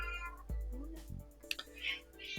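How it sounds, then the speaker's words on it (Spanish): A cat gives a couple of short, close meows in a quiet indoor room, with a faint bit of murmuring in the background. "Ahora sí está el gato ahí."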